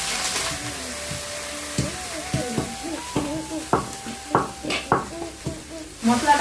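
Spice paste frying in a pan while it is stirred, with a soft sizzle and a run of sharp utensil scrapes and knocks against the pan, speeding up toward the end, close by and with no one speaking.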